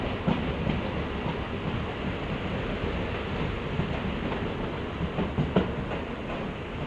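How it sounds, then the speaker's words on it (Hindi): A MEMU train arrives at Itwari Junction with a steady, loud rumble of wheels on rails and faint rhythmic clicks, continuous throughout with no talk. "तो अराइवल ले रहे हैं हम इतवारी जंक्शन में"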